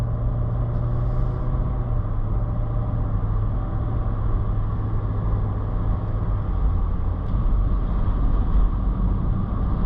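A Range Rover L322 with the 4.4 TDV8 diesel drives a gritted road in snow, giving a steady, close engine drone with tyre and road roar that holds constant throughout, with no talking.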